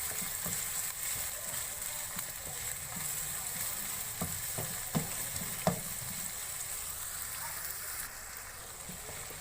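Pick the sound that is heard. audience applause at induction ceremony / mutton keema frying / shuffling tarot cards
mutton keema frying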